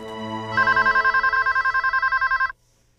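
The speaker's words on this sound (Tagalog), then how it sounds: "could you answer the phone, please?" Telephone ringing indoors in a Filipino drama, an electronic trilling ring that starts after a brief tone, pulses in rapid repeated bursts for about two seconds, then cuts off to near silence.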